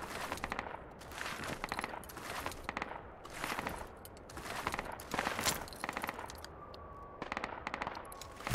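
Rifle gunfire in the military shooter Project Reality, likely a silenced DMR, rings out in repeated sharp bursts and single shots over a steady battlefield din with no voices heard.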